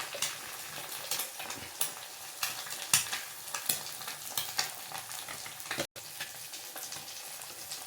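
Egg masala sizzles and fries in a pan while a spoon stirs it, with steady crackling and regular scraping strokes, close and continuous, no talking.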